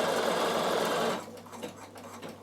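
Bernina sewing machine stitching wool applique, a steady, loud mechanical whir that runs for about a second before cutting off, leaving faint handling noises and quiet room sound.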